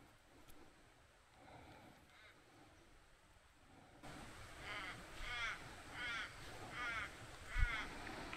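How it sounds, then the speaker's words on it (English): A crow caws in a series of harsh calls, about five in a row, moderately distant over faint outdoor background noise while fishing for redfin perch. "I heard a crow."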